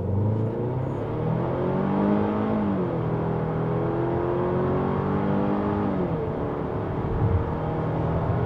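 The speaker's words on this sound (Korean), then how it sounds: "다만 엔진 질감은 조금 그르릉대는 느낌보다는 되게 이렇게 긁는 듯한 느낌이 있어요" A Hyundai Palisade 2.5 turbo engine revs hard in sport mode, its steady, scratchy drone rising and falling in pitch for several seconds, loud and close, with no voices over it.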